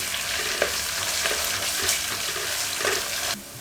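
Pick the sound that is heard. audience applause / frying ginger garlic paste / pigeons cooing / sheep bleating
frying ginger garlic paste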